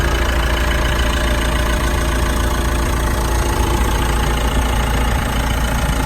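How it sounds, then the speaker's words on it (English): 2018 Mitsubishi Pajero Sport with a 2.4 litre turbo diesel engine idling, a steady loud rumbling clatter that holds unchanged from start to finish. "you can probably hear I do have the car running"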